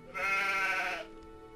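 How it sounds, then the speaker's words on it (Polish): A single sheep in the Gothic 2 video game lets out one clear, drawn-out bleat of about a second that fades into a quieter tail, with no talk over it. "trzeba odprowadzić tam owce do ten na farmę Akila"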